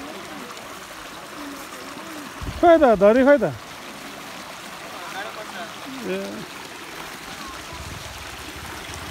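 A Nepali river stream rushing steadily as a group of eleven travellers wades across where a bridge was left unfinished; constant broadband water noise fills the clip while a voice calls out briefly over it.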